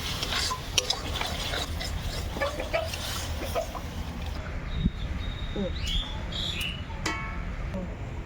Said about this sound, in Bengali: মশলাটা কিন্তু অনবরত নাড়তে হবে, নতুবা বাদাম আছে, কাজু বাদাম কিশমিশ কড়াইয়ের নিচে লেগে যাবে।